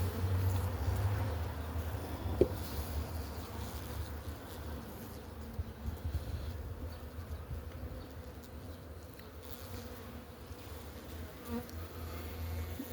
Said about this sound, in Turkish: Arılarımız çalışıyor.